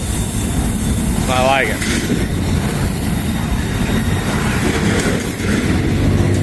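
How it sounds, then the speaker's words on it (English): An intermodal freight train rolls past on a steep grade with a steady, loud rumble and rail noise that fills the whole stretch, while a person speaks briefly over it near the start. "This is an intermodal,"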